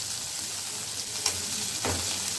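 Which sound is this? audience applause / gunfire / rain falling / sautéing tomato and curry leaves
sautéing tomato and curry leaves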